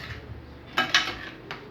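A big stainless steel spoon mixes corn kernels coated in oil and butter in a pan for macque choux, giving a few close metallic clinks and scrapes against a quiet background.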